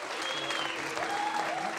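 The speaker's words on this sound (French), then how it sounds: "applaudissez pas ça" A stand-up comedy audience breaks into a short, dense burst of applause, close and sustained for under two seconds.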